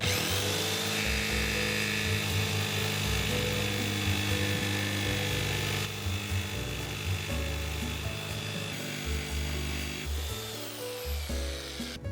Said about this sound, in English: I'm going to start with the jigsaw because it's the easiest and cleanest